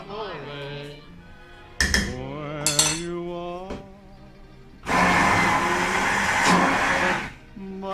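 A blender whirs loudly and steadily for a few seconds, smoothing homemade pizza sauce, preceded by clattering kitchen clinks and knocks close by.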